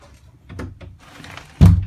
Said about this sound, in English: Let's shut my back door, come on.